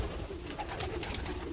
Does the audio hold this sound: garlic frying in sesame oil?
no